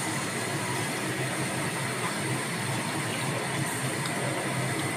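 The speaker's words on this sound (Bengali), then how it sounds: "এবার আমরা জল দিয়ে দিচ্ছি।" Water pours into a hot tilapia fish curry with softened tomatoes and salt, making a continuous, even rushing hiss that holds steady from start to finish.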